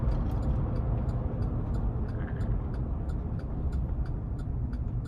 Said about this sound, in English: 2013 Chevrolet Avalanche Black Diamond out on the road for a quick test drive.